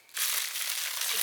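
A plastic bag around a book being cut and torn open, a brief bright crinkling rip that starts abruptly and carries on for about a second, close and fairly loud.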